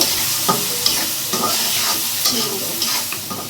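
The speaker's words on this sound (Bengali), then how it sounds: "আমি এর মধ্যে একটু বেগুনটা দিব, যে বেগুনটা ভাজা ভাজা করে নেব" Eggplant fries in a pan with a steady sizzle, punctuated by repeated stirring scrapes and clinks of a utensil against the pan, close and clear with no talking.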